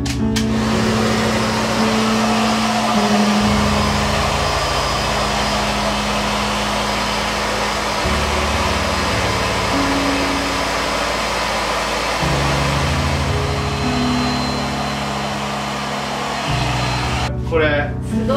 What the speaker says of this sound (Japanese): 朝倉のですね、 エアレスドライヤーっていうやつを、伸び用なんですけどガチャッとつけてです。